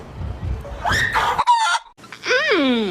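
A pet hen clucking, then a loud, close rooster-style crow rising and falling, with scratchy rustling before it.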